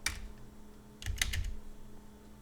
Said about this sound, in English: let's type in looking for a theme